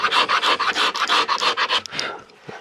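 Rapid rhythmic rasping of a hand tool smoothing carved wood on a crest, about a dozen quick scraping strokes close up, then a pause and a couple of softer scrapes.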